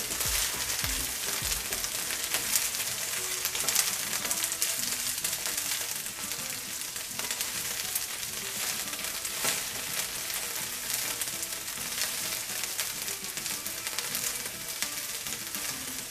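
Okra (bhindi) frying in a pan over a low flame, gently stirred, gives a steady, even sizzle with soft stirring scrapes throughout and no talk.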